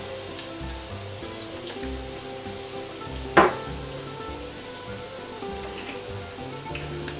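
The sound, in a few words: cod fritters (Portuguese pataniscas) frying in a pan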